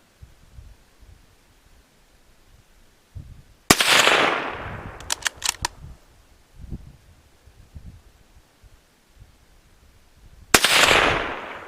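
A Ruger 77/22 All-Weather bolt-action rifle in .22 Magnum fires two sharp, loud outdoor shots about seven seconds apart, each cracking with a short echoing tail, with a few quick clicks of the bolt between them.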